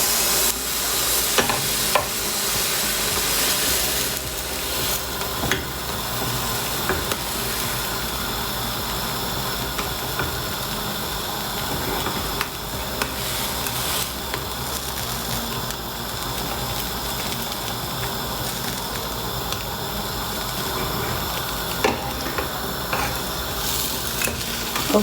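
A potato slice sandwich with tomato and cheese fries in a pan, giving a steady, close sizzle for the whole stretch with occasional scrapes and clatters as it is turned, and no voices.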